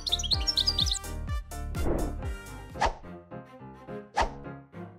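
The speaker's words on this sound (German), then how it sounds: "endlich habe ich einen Vogel" Cartoonish bird chirps in an animated comedy about a tattoo studio, loud and close, quick high tweets over bouncy plucked music with punchy hits.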